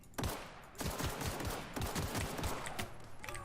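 Gunfire in the video game The Outer Worlds rattles out in dense, rapid bursts of loud, close shots that nearly fill the stretch without pause.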